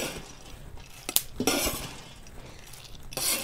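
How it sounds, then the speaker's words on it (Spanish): Corn kernels toasting in a pan for pinole on a ranch, stirred with a utensil: scraping and rustling with a few sharp clinks and pops, close by and fairly soft, with no talking. "Y todavía sigue reventando. Le doy una movida porque se me va a alcanzar a quemar"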